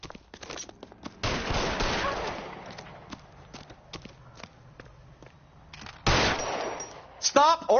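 Gunfire in a film scene: a burst of rapid shots, then scattered sharp cracks, then another loud volley, with footsteps and shuffling in between and brief dialogue under the action.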